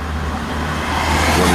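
A vehicle driven along at steady speed, a continuous low engine drone with road noise holding even throughout, close and fairly loud, no talking.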